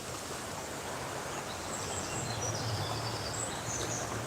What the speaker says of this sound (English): Birds are going mad.